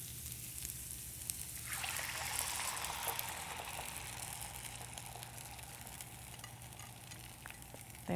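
Soaked rice and dal for kitchari are poured into a hot pot, bringing a quiet sizzle that rises in the middle of the pour. Soft liquid and stirring noises follow, with a faint knock at the end.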